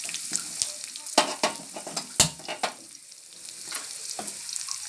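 Onions fry in a pan on a gas stove, a close sizzle punctuated by several sharp scraping and clanking stirs in the first half, then a softer steady hiss.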